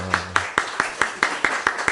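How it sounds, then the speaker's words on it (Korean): Sparse welcoming applause rises during a church service, a few people clapping in a slow, evenly spaced rhythm of distinct, fairly close hand claps as a voice fades at the start. "우리 환영의 박수 하겠습니다."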